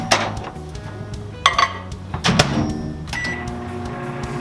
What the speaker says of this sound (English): right now I'm going to put my chocolate chips in the microwave for a minute and melt them down